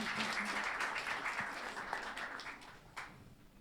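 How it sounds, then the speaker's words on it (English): A seated audience at a music composition event applauds a guest walking in, a moderate, fairly distant wash of clapping that slowly fades, with a few sharper individual claps standing out near the end. "Give him some more applause, guys"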